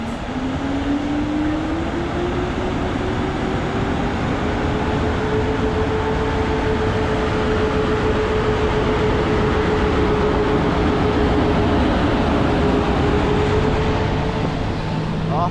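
A Chopin passenger train departs Warszawa Zachodnia station in icy winter conditions, a steady loud rumble of locomotive and wagons with a rising engine tone running throughout.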